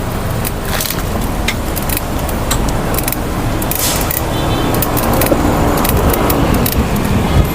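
Steady road traffic near a Pasay bus terminal, heard from inside a moving vehicle, as a loud continuous rumble and road hiss with occasional rattles and clicks and no voices.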